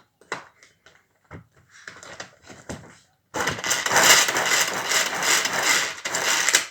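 Several quick pulls rattle and whir, then a Tupperware pull-cord food chopper spins, a steady buzzing whirr that runs for a few seconds close by.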